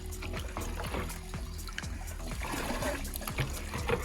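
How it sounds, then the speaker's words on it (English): Water pouring and trickling steadily as a fish pond is drained, a continuous splashing, gurgling stream with some low rumbling, close and fairly loud throughout. "So what I do, I first take out the water,"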